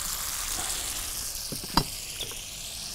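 Three spoonfuls of oil sizzle and crackle steadily in a pan while cooking spinach pasta, with a sharp clink or scrape near the middle and a few faint stirring knocks.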